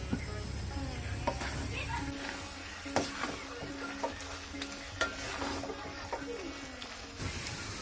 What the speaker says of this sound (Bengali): এখন মশলার সাথে শাপলাগুলোকে একটু ভালো করে ভুনে নেব।